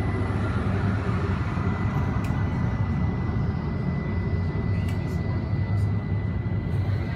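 A loud, steady roar of airplane jet engines at Frankfurt Airport fills the air, a constant rumbling drone with a faint high whine above it.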